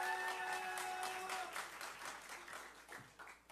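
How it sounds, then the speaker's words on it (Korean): A church congregation at a 40th-anniversary thanksgiving service applauds to welcome the praise team, soft and fairly distant clapping with a sustained tone at the start that fades as the clapping tapers off. "박수로 환영해 주시기 바랍니다."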